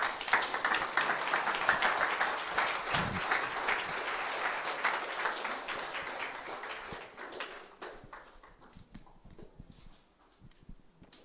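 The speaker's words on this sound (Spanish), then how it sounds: "Y le pueden dar un aplauso al Señor." Congregation applauding during a church service, dense sustained clapping that fills the room, then thins out and fades toward the end.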